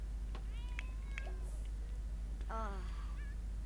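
Cats meow in a German-language housekeeping video game, several distinct calls spaced across a few seconds, with one fuller meow near the end, over a steady low background hum.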